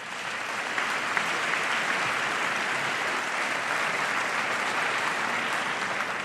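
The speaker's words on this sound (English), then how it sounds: "give yourself a round of applause." Audience applause fills a presidential debate hall at Washington University, a dense, steady clapping that carries on unbroken for several seconds with no voices over it.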